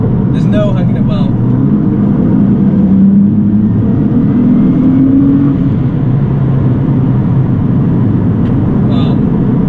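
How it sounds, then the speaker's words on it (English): A Litchfield-tuned 620bhp Nissan GTR accelerating, its loud engine a steady low roar throughout with a rising tone partway through, close-up and without pause. "As soon as you touch the accelerator itself, there's no hanging about."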